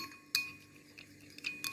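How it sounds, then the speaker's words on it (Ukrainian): A spoon clinks against a glass bowl of melted gelatin after a short spell in the microwave, giving three or four light, separate taps with quiet pauses between them. "10 секунд пройшло, перемішуємо желатин."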